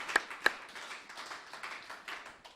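A congregation clapping during a church sermon in London: two sharp claps stand out early, followed by looser scattered clapping that continues at a moderate level.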